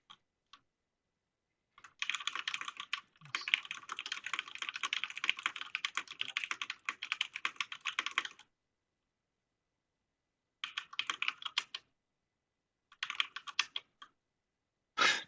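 Rapid keystrokes on a computer keyboard, typed during an online Dominion card game, come in dense bursts: one long run of clicking, then shorter spurts after pauses, close and fairly quiet with no voices.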